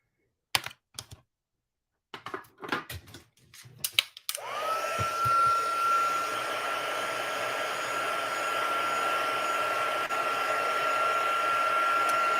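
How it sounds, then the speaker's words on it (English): A heat gun blowing hot air starts up after a few scattered knocks and clatters, then holds a loud, steady roar with a thin high whine that runs to the end. "Use my heat gun."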